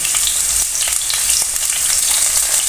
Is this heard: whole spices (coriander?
yes